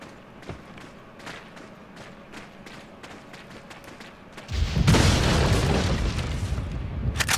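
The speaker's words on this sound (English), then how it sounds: "Flash grenade, and there's the red gem." Flash grenade going off in Resident Evil 4, a sudden loud blast that bursts in after a stretch of quieter footsteps and thumps, then hangs as a broad, sustained roar to the end.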